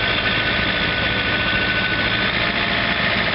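John Deere 110 TLB tractor-loader-backhoe running its snow blower at around 1700 RPM, a loud, continuous, steady engine drone with a whirring blower hum and no breaks.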